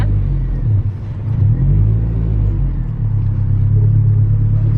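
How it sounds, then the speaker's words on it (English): An Acura RSX fitted with a new adjustable performance shifter drives along, its engine a steady loud low rumble with slight revving swells, heard close from inside the car. "I'm just gonna go for a drive."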